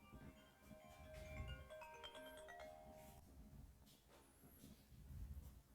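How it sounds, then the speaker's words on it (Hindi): A phone rings with a repeating electronic melodic tone in a quiet indoor room, faint and a little distant, sounding in short patterned phrases over low background noise. "कौन फोन कर रहा है देखिए."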